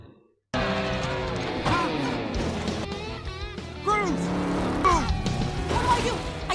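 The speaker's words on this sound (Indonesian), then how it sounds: "tempat itu adalah arena penghancuran atau derby, di mana mobil-mobil saling menghancurkan satu sama lain di arena tersebut" Animated cars in a demolition derby arena, with roaring engines, squealing tires and metallic crashing and scraping, loud and busy, mixed with cartoon vocal effects and music-like tones.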